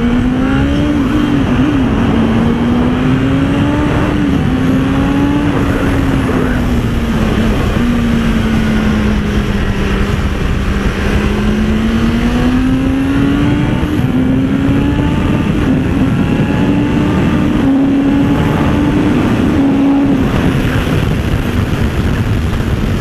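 A BMW S1000RR superbike at a track day, its engine droning loud and continuous with a strong tonal whine that rises and falls in pitch as the throttle opens and eases, steady throughout with no voices.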